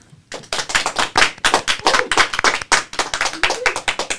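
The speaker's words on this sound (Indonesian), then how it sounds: "Kasih tepuk tangan yang meriah." An audience claps for a tactical self-defence coach welcomed as a guest on an Indonesian show. The hand claps are loud, close and rapid, and they keep a lively, uneven rhythm for several seconds.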